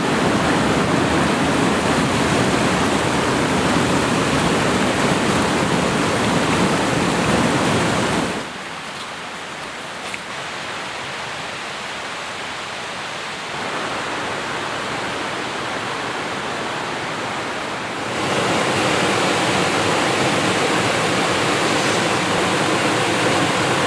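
Waterfall at Overlooked Falls along the Little Carp River in Michigan's Upper Peninsula, a loud steady broadband roar of falling water that drops to a softer rush midway, then swells back to full strength, with no voices.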